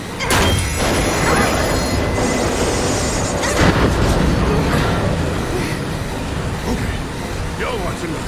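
Train running in Final Fantasy 7 Remake with a loud continuous rumble, rhythmic clatter and occasional wheel squeal, while voices talk over the noise.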